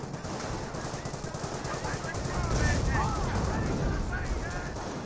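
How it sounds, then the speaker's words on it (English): Rocket grenades and mortars fire in a Company of Heroes battle, dense rattling bursts and booms rolling continuously at moderate distance, louder midway, with no voices. "Rocket grenades firing away."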